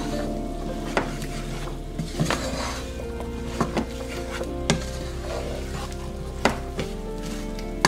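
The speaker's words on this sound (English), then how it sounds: "I'm going to stir this in really well" Tomato paste and Worcestershire sauce sizzle in a hot pan as a spoon stirs and scrapes, with a series of sharp clacks against the pan over a steady frying hiss and faint background music.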